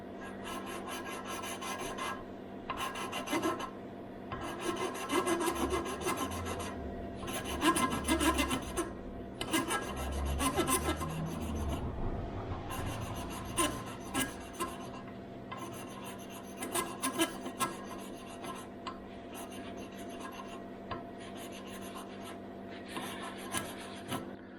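Engine valves on an Austin Healey are lapped by hand, a gritty rasping scrape repeated in rhythmic back-and-forth bursts with short pauses, close and fairly quiet throughout.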